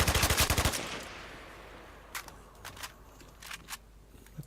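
Burst of rapid gunfire from enemies in the video game Stalker: Wind of Time, a loud close volley of about a dozen shots at the start, followed by scattered fainter distant shots and clicks.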